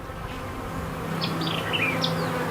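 A steady, close buzzing of many honeybees on a heavy brood frame during a hive inspection, a dense droning hum with a few higher-pitched passes over it, and no voices.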